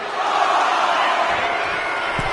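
A large arena crowd at a WWE 2K25 live wrestling event roars in a steady, loud cheer throughout, with a few low thuds near the end.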